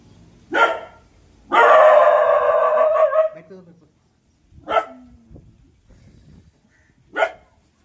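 A dog barks in short bursts with quiet gaps between, one long sustained bark in the middle, fairly near and without talk.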